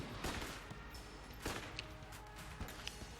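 Gunfire in the video game Enter the Gungeon, with rapid popping shots and impacts layered over dense, busy game sound, all heard faintly and at a distance.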